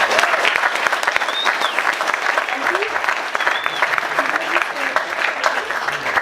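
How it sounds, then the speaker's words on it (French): An audience claps steadily for young organisers at an evening event, dense continuous applause lasting several seconds, loud and close, with a few faint voices mixed in. "j'aimerais qu'on les applaudisse"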